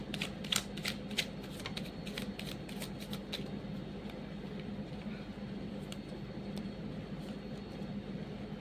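Tarot cards riffled and drawn from a deck in a quick run of crisp snaps over the first three seconds, then a steady low room hum with faint rustles.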